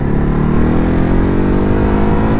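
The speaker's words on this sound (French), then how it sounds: "Elle a vraiment une belle sonorisation cette hyper moto" A Ducati 950 Hypermotard motorcycle engine revs loud and close, its pitch climbing steadily under acceleration with a strong, continuous mid-range growl.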